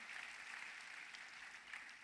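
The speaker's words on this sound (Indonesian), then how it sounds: "Kita kasih tepuk tangan yang paling meriah buat Tuhan kita" A church congregation applauds at an Ascension Day revival service, a steady wash of clapping that sounds somewhat distant and fairly faint, holding evenly for about two seconds with no voices on top.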